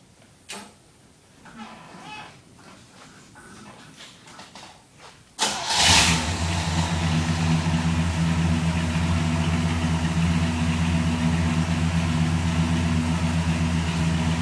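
A few quiet clicks and shuffles, then a 1967 Pontiac LeMans engine cranks and catches with a burst, settling into a steady, rumbling idle close by.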